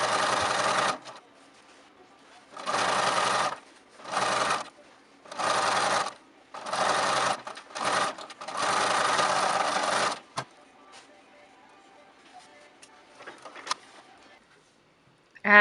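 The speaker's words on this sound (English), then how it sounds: "I pivot, but I'm sewing right next to the hem without sewing over it" A sewing machine stitches through bulky towel layers right beside a thick hem, running in several close bursts of a second or so each with short pauses between, then fading into quiet handling noises.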